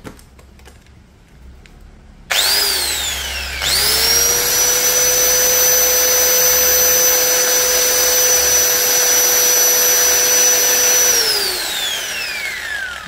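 A Makita M0900B angle grinder runs unloaded. After a quiet start it clicks on, spins up with a rising whine, holds a loud steady high-pitched tone for several seconds, then winds down as the pitch falls.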